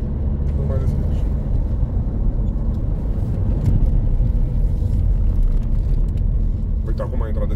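Broadband wind roar buffets steadily through the open window of a Renault Laguna Coupe as it drives, with a constant low rumble throughout and voices talking over it.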